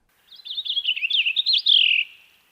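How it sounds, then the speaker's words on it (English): A purple finch sings a sweet, clear warbling phrase that runs unbroken for nearly two seconds and ends on a sustained buzzy note, loud and alone against silence. "Since the purple finch lives near my house, it's my default warbling bird. It's got a sweeter, clearer sound, sometimes with a zhree at the end."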